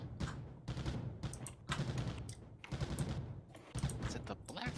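Rapid bursts of turret fire in Mindustry, rattling volleys in quick, chopped clusters with short gaps, fairly faint and mixed with game noise.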